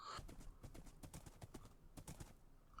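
Horse hooves clip-clop at a steady, quick rhythm as a rider travels through a video game world, a run of crisp, evenly spaced knocks over soft background ambience.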